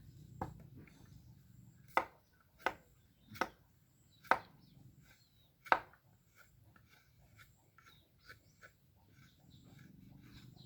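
Dry, old coconut meat is scraped on a coconut scraper for making Lao sweets, giving five sharp, evenly spaced rasping strokes followed by softer scattered scrapes against a quiet background.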